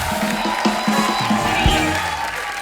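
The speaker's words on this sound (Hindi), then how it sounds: "एक बार जोरदार तालियां हमारे शार्क्स के लिए" A crowd cheering and shouting with clapping mixed in, a loud, lively roar close by.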